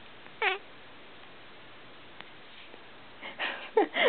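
A cat lets out a short meow, then after a quiet stretch several rising and falling meows in quick succession, close and clear, as it sings along with its owners.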